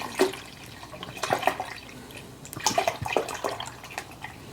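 Apple juice pours into a nearly full pot, a soft uneven splashing and gurgling with brief louder bursts, close by.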